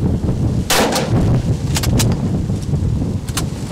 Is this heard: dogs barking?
no